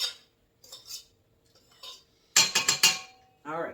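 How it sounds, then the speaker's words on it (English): Utensils scrape and clink against a bowl while half a cup of butter is mixed into dinner roll dough, coming in short bursts of close stirring and knocking with brief pauses between. "we're going to mix the rest of our 1/2 cup of butter into the mix."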